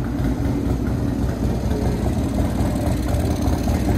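A 1996 Buell S1 Lightning motorcycle engine idles, a loud, close, steady low rumble with a fast even pulsing throb and no change in pace.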